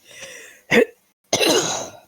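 A person coughs close up, a short harsh hack followed by a rougher, longer coughing burst after a brief pause.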